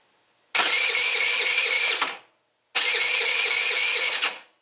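A 2012 Tao Tao scooter engine's electric starter cranks twice, each whirring burst lasting about a second and a half, separated by a short silence, close and loud.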